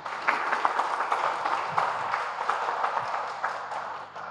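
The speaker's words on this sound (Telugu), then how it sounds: "ఒకసారి చప్పట్లు కొట్టండి." An audience at a board meeting in a hotel hall gives a round of applause, a moderate, steady patter of many hands clapping that slowly tapers at the end.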